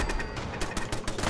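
Sniper rifle fire in Fallout 4, several sharp shots in quick succession over a constant background of game noise, fairly loud and without any talk.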